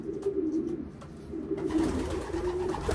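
Racing pigeons coo in a loft, a series of low, rolling throaty calls repeating close by against a quiet background.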